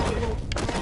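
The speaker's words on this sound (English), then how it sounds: "obviously cause an explosion that will take out several of these little bastards at once" Red explosive barrels blowing up in the fantasy tower-defense game Orc Slayer, a dense crackling burst with sharp thuds and a brief bright crack partway through, loud and close with no talk.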